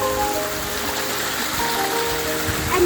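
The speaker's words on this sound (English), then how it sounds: "You can see that there's a waterfall that's coming through, and this ice sheet is melting as well." A waterfall runs beneath a melting ice sheet on the Eiger North Face hike in Switzerland, producing a constant rushing, rain-like wash of water, close and steady, with no one talking.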